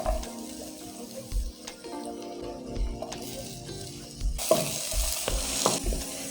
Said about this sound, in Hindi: अब 4 से 5 मिनट हमने इनको धीरे धीरे इस तरह स्टर करते रहना है।